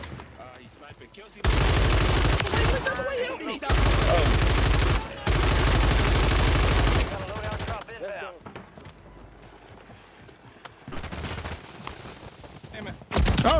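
Gunfire rings out in Call of Duty Warzone, with several long sustained loud bursts separated by short gaps, then quieter stretches with a few more shots, while players talk throughout.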